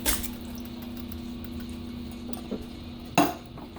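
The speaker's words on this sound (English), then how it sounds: "Give it another stir." Red beans with Rotel being stirred in an electric pressure cooker, with soft scraping and liquid squishing plus a few sharper spoon clinks against the pot, close and moderately loud with no talk.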